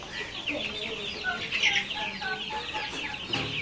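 Young Gramasree chicks and cockerels cluck and chirp continuously in a busy flock, nearby and fairly soft, with no talk.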